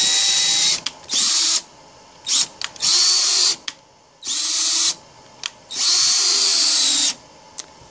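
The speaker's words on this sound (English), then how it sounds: "this is a 1 1/4 inch screw, and it's going through" A power drill drives a 1 1/4 inch screw with a star bit, firing in repeated short bursts of high whine with brief pauses between them, loud and close, with no talk.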